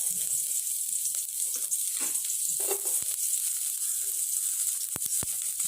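Onions crackle and sizzle in hot peanut oil with a constant hiss, broken by a few sharp clinks of a utensil against the pan.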